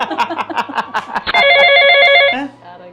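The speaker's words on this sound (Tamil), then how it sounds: "யாரோ ஃபோன் பண்ணுறாங்களே" A telephone rings loudly and close by in a single sustained electronic trill, heard right after a stretch of quick talk.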